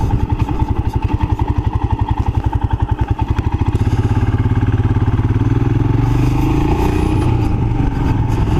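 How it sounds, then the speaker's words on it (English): A Royal Enfield motorcycle engine thumps in a slow, even, close beat during low-speed riding, then revs up into a smoother, louder drone as it picks up pace on a mountain road. "Another thing on the Enfield, slow speed manoeuvring."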